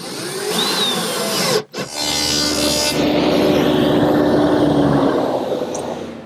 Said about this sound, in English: pre-drill some holes to attach the front permanently with screws